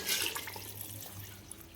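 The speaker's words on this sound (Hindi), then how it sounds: "अब इसमें हम पानी ऐड करेंगे। 2 किलो हम इसमें पानी ऐड करेंगे।" Water, about 2 kg, splashes into a pot of chicken and potato pulao masala, a brief burst of pouring that tapers into lighter trickling, close and fairly quiet with no talk.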